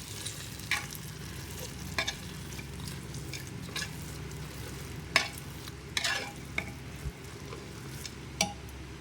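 Sambar is stirred in a pot at close range, with soft continuous bubbling under a series of sharp scraping and tapping strokes spaced irregularly, with no talking.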